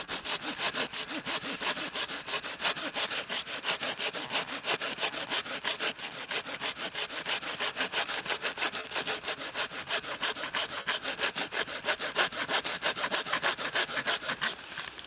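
Bahco Laplander folding saw cutting through wood outdoors, a close, steady rasping of rapid back-and-forth strokes in an even rhythm, continuous throughout with no voices.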